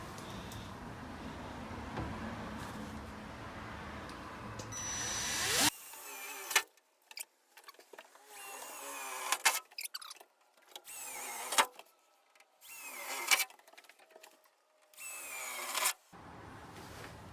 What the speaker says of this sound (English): I'm about to drill a hole in a van.